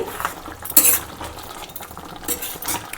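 A spoon stirs okra and raw prawn curry in a pan, scraping and clinking against the metal in a few close, soft strokes, with one brighter clatter near the start and a faint simmer underneath.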